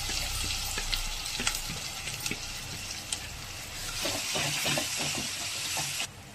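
Ground masala paste, added after ginger-garlic paste, fries in a pan for egg masala curry, giving a steady close sizzle with scattered light clicks and spatters that drops off abruptly near the end.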